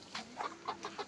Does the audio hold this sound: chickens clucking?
yes